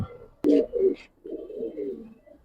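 Giribaz and coloured pigeons coo close by in a few throaty, rolling phrases, with one sharp click near the start and a longer soft burbling stretch after a brief pause.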